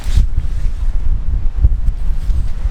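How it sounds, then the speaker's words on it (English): Wind buffets the microphone with low, rumbling gusts that keep rising and falling, and no one speaks. "It's kind of windy"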